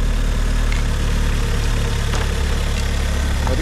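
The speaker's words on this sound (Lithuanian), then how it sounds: "Variklis nekala." Engine of a Mazda just started and settling into a steady idle, a loud, close, even low rumble with faint clicks and no voices.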